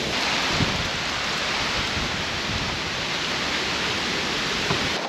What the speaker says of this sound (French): Première pluie dans le van.